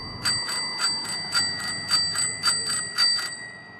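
A bicycle bell on a vintage Peugeot PE-25 mixte single-speed bike rung rapidly up close, about a dozen bright metallic dings in quick, steady succession over light background noise.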